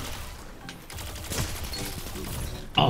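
Gunfire from the shooter video game Destiny 2 with random weapon loadouts: a handful of sharp shots spread across a few seconds, ending in a louder blast, with quiet gaps between.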